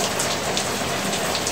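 Heavy rain pours steadily in Lahore, Pakistan, a dense, even hiss of drops on surfaces that holds loud and unbroken throughout with no voices.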